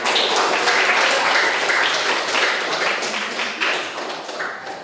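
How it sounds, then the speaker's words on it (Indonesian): Applause in a classroom after a group presentation in a teaching-practice lesson, with dense, steady clapping from a small group that fades slightly toward the end and no speech over it. "Baik, terima kasih tepuk tangan"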